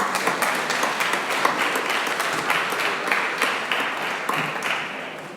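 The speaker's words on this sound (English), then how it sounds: "Can we have one more round of applause for all these amazing hacks and our sponsors for donating the prizes?" A crowd claps for hackathon demos and sponsors at HackCambridge, with sharp individual hand claps standing out over a broad, steady round of applause that thins and fades toward the end.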